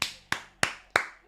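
Five sharp, evenly spaced hand claps ring out one at a time, about three per second, close and moderately loud, with no voices over them.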